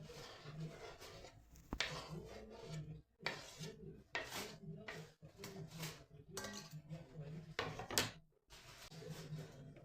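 Chopped carrots tipped into a bowl for a vinegret salad, with clinking dishes, scraping and knocking of kitchenware in irregular bursts at close range, no talking.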